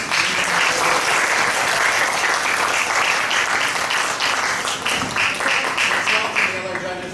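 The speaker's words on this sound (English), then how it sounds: "Please give everyone another round of applause." Sustained applause from an audience at the final round of a debate tournament in Shenzhen, a dense, even wash of clapping that carries steadily from start to finish.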